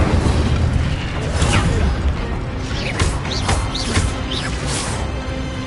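Spell combat in the Hogwarts Legacy video game, casting Incendio and Accio: a steady stream of magical whooshes, sweeping zaps and impact bursts tumbles over one another at close range without a break.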